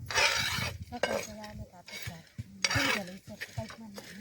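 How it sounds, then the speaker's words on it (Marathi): A utensil stirs split gram dal as it roasts in a pan over a wood-fired stove. Close, quiet scraping strokes come in uneven bursts, with light metallic clinks and a faint sizzle between them. "किती छान अशी डाळे आता आपण भाजून घेतलेले आहे"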